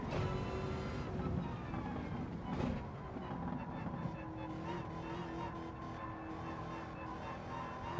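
A race car in Gran Turismo 7, played on a Logitech G923 wheel, drones steadily with engine whine and a brief tyre skid near the start, continuous and moderately loud.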